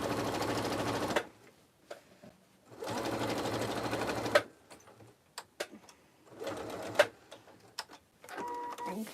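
A sewing machine stitches the side seam of an Oxbow tote bag in three loud bursts of steady whirring, separated by short pauses filled with small clicks and handling noises.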